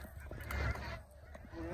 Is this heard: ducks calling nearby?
yes